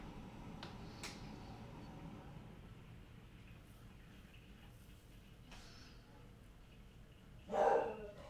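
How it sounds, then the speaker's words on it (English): A dog in a quiet room barks once, short and muffled, near the end after a long stretch of near silence with a few faint distant sounds earlier. "My dog is going nuts."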